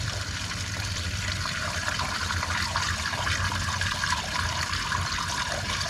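Old gasoline pours steadily out of a John Deere 630 tractor engine in a continuous splashing stream, like fluid draining into a container, with no talking.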